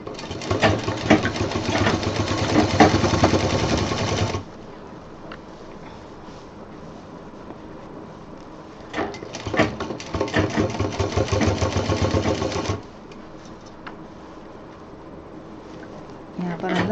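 A sewing machine stitches piping along a diaper bag with elastic inside, running in two sustained bursts separated by quiet pauses, with a voice talking in the gaps.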